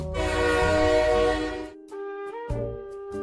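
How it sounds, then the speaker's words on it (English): A train horn blares in Animal Crossing as a train runs over the player out of bounds, a long loud tonal blast that cuts off, followed by shorter horn bursts and clatter. "Besides getting run over by a train."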